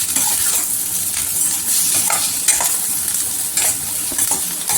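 Raw banana pieces for valakkai varuval, seasoned with salt and chilli powder, frying in a pan with a loud, steady crackling sizzle and occasional stirring scrapes throughout, with no voices.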